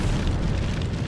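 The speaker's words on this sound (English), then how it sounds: "Fire style, majestic hurricane!" Fire Style: Majestic Hurricane jutsu in a Naruto Shippuden video game erupts as a dense, continuous roaring blast of flame, loud and steady across its length.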